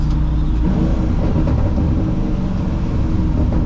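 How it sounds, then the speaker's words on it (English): A 1971 Ford F-100 restomod with an LS3 V8 downshifting from fourth gear, a loud continuous low rumble of engine and road noise with a slight rise in revs, heard from inside the cab. "So we're cruising in 4th gear. Downshift."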